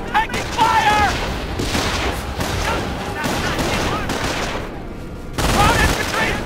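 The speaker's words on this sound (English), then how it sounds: "Position taking fire!" Battle gunfire in Company of Heroes: sustained bursts of rifle and machine-gun fire with heavier booms, loud and dense, with voices shouting over the shooting.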